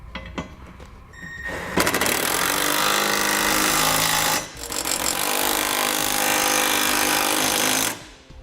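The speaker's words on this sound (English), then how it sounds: "Now I'm going to come back with a 17mm socket and I'm going to snug up all of my hardware" Power tool driving a 17mm socket to snug up Curt trailer hitch bolts on a 2010 Toyota Venza, a loud steady mechanical whir in two long bursts separated by a short pause.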